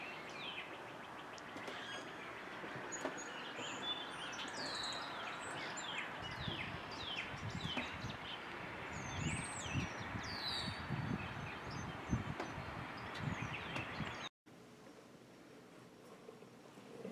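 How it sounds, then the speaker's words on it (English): Birds sing and chirp outdoors on a morning after a thunderstorm, with many overlapping calls over a soft wash of ambient noise; the chorus is faint and continuous, then cuts out near the end, leaving a quieter background. "now all the birds are out"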